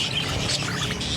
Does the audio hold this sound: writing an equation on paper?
no